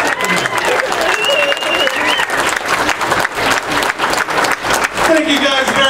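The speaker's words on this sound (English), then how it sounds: "Round of applause." A big burst of comedy club audience applause, dense clapping and cheering that fills the whole stretch at a steady, loud level.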